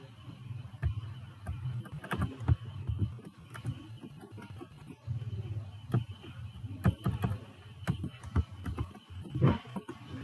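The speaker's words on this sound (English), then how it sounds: "I'm typing some information here" Typing on a computer keyboard while entering text into an MS Excel spreadsheet, heard as a steady run of quiet, close keystroke clicks with irregular rhythm and no talking.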